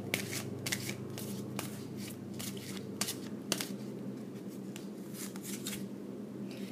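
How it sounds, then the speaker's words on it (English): Oracle cards from Colette Baron Reed's Wisdom of the Oracle deck being shuffled, giving repeated crisp riffling bursts and card slaps in an irregular rhythm over a steady low room hum, close and moderately loud with no talking. "Choose another card from Colette Baron Reed's deck."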